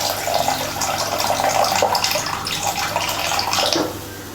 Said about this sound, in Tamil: இப்போ நம்ம புளி கரைச்சல் சேர்த்துக்கலாம்.